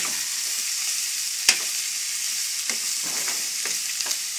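Beef sautéing for kaldereta gives a loud, steady sizzle close up, with occasional sharp clacks and scrapes from stirring over the hiss and no talking.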